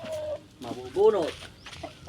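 A farmyard hen clucks in a few short, close bursts, with quiet gaps between the calls, heard on its own without any talk.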